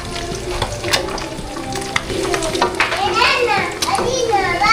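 Fish frying in hot oil with steady sizzling and an occasional pop, mostly buried under children's voices and lively chatter nearby.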